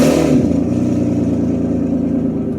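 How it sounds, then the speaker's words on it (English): The V12 engine of a 1992 Mercedes 600SEL barn-find project car starts with a quick crank and settles into a loud, steady, close-up idle, running without its oxygen sensors. "Okay, now let's just start the engine. It's going to be obviously loud"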